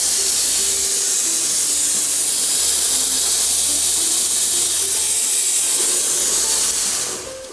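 The steam wand of a Decent DE1 espresso machine hisses strongly and continuously for several seconds, loud and close, then cuts off abruptly at the end.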